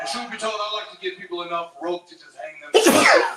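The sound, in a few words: sneeze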